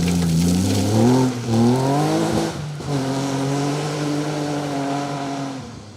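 BMW 325 rally car racing along a forest rally stage at the Wyedean Rally, engine loud and close, revving hard through the gears with rising pitch sweeps and a brief lift between shifts.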